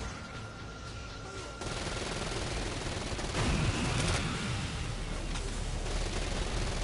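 Rapid bursts of SMG fire in the video game Disoriented, shot at long range, rattling steadily for several seconds over a dense, noisy game background.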